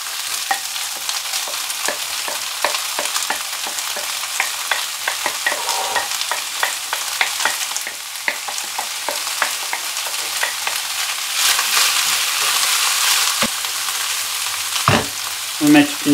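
Carrots and onion sizzling in a pan for Cantonese chicken fried rice, a steady crackling fry with repeated scraping and clicking stirring strokes throughout.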